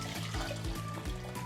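Water poured into a pot of soaked red masoor lentils for dal, a soft steady trickle and splash with faint rhythmic glugs, quiet and close.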